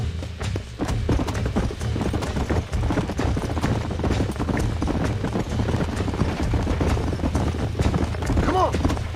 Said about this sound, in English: if we can wrangle some horses